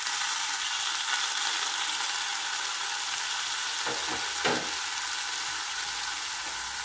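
Shrimp and pechay fry in a hot pan with garlic and onion, making a loud, constant sizzle up close, broken by a couple of brief scraping stirs near the end.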